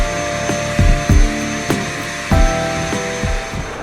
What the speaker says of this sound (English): I vacuum out all the food storage areas of any crumbs and finish up with floors and bilges.